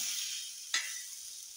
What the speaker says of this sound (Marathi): मासे पलटी करते. एका साईडून झाले,